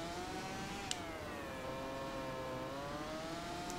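A motorcycle engine in the Valentino Rossi The Game racing video game holds a steady high whining drone with slowly shifting pitch, continuous and fairly faint.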